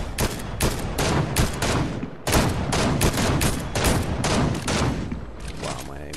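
Rapid loud gunfire in the video game Fortnite, many sharp shots fired in quick irregular bursts over several seconds with only a brief pause midway.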